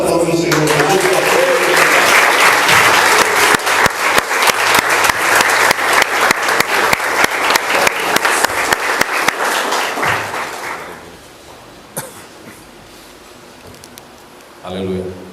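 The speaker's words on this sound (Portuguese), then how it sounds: "Vamos aplaudir o Senhor Jesus." A church congregation claps together in a strong, rhythmic, evenly pulsing applause for about ten seconds, then it dies away into a quiet room with a few scattered sounds.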